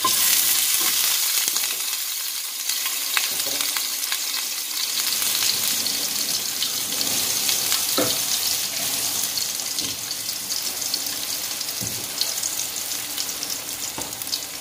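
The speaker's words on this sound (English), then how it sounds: "And now we're going to add our garlic." Garlic sizzles and fries steadily in hot oil in a pan for sardines, a continuous bright crackle with occasional stirring clinks, close and fairly loud throughout.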